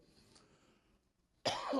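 A single short, close cough bursts out after a moment of quiet room tone during a Sunday church service.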